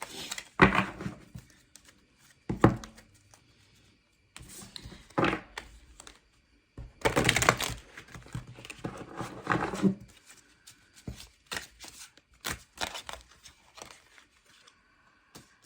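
A tarot deck being shuffled in bursts, with crisp riffling card noise in several short clusters separated by quiet gaps, close by and moderately loud.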